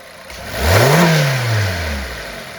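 A car engine idles, then revs to wide-open throttle and is released, the pitch sweeping up and falling back toward idle, heard close and alone during a mass air flow sensor test.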